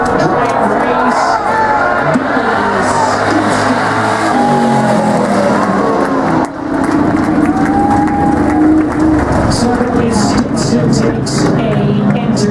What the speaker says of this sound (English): Kenny Baker to the outside of the 95 truck coming up to turn number 4, drag race